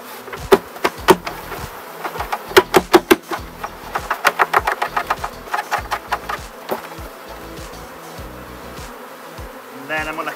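Honey bees from a swarm buzz densely and continuously as they are shaken into a full-size hive box, with a string of sharp, rapid knocks and thumps from the box and frames cutting through the hum.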